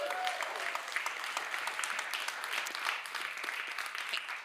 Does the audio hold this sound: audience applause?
yes